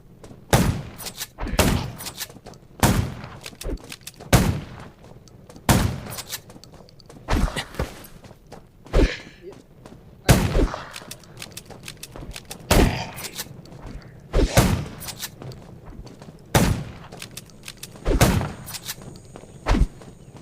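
Loud, sharp video game gunshot blasts fire one after another at an uneven pace, with no talking between them.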